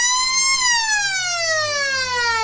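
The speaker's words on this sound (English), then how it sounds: "Siren sounds to get the final term underway." A loud siren starts the final quarter of an Australian football match, wailing continuously, briefly rising in pitch and then sliding slowly downward for the rest of the sound, with no voices.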